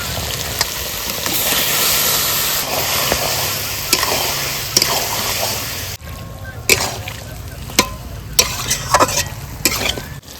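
Chicken pieces dropped into a pan of fried cumin, coriander, and dried and green chilies: a loud, continuous sizzle for about six seconds, then quieter frying broken by sharp scrapes and clacks of stirring.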